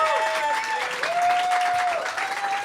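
A live audience at a French club show applauds in a dense, steady patter of clapping, with a sustained whooping tone gliding above the crowd noise.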